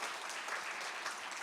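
A church congregation claps during a New Year's Day service, a short, soft patter of hands heard from a distance, even and unbroken throughout.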